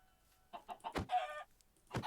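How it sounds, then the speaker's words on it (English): A Minecraft chicken clucks in a quick run of short clucks, then gives a longer squawk and one more cluck, close and clear, with no talking. "Okay, there's a chicken."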